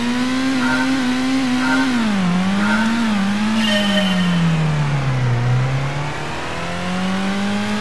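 A Mazda 121 engine in Gran Turismo revs and holds loudly, its pitch rising, dipping and climbing again as the throttle varies, with a steady close whine and no talk.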